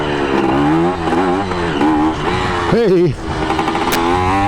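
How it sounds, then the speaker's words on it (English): A Kawasaki KE100 motorcycle engine runs loud and close during a wheelie, its note rising and falling with short throttle blips, one sharp rev near the middle, while a voice calls out briefly. "So this is just little blips of throttle."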